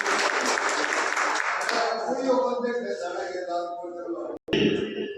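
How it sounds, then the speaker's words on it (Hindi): A burst of audience applause at a Brahmin community gathering in Ratangarh, loud and dense at first, then fading as a voice begins over it, with a short gap and a brief return of sound near the end. "जोरदार इनका तालियों से स्वागत करें"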